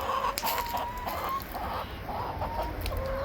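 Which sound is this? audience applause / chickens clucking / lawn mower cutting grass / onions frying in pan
chickens clucking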